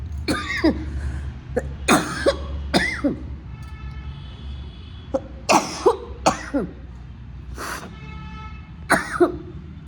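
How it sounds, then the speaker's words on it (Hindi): Several separate coughs and throat-clearing bursts from a cold, close and fairly loud, spaced irregularly over a quiet background. "सर्दी जुकाम का मौसम है, आ ही जाती है खांसी"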